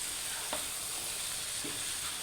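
Cauliflower frying for chicken gobi in a pan, a steady faint sizzle with two brief spoon-stirring scrapes, quiet and close with no talk.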